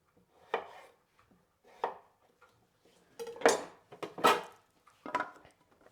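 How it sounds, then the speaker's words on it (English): A knife slices through potatoes being cut into wedges on a board, six distinct crisp chops spaced about a second apart in a quiet kitchen. "So these will go with my sauerkraut, and I'm just gonna cut them into wedges."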